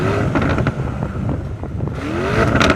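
Lamborghini Urus with a 4-litre twin-turbo V8 revving, rising and falling in several sharp blips with crackles, loud and close throughout.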